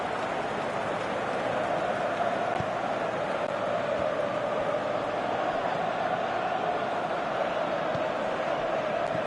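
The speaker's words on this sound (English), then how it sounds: "Well, the crowd aren't happy." A football stadium crowd, unhappy after a missed shot, fills the air with a steady, even murmur and hiss of distant noise that holds at one level throughout, with no single shout standing out.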